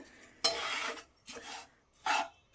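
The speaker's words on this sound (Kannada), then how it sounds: "ಆ ರೀತಿ ಚೆನ್ನಾಗಿ ಫ್ರೈ ಮಾಡ್ಕೋಬೇಕು" Palak dal tempering being stirred and fried in a hot pan: three distinct bursts of close, scraping stirring, each about half a second long, separated by quieter gaps with no voices.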